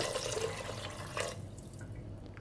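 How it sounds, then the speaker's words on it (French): Water from a large glass pours into a cooking pot of white beans in a home kitchen, a soft steady splashing trickle for over a second, then a faint drip, quiet and alone. "Ensuite, nous allons mettre de l'eau. Là, je me prends un grand verre d'eau."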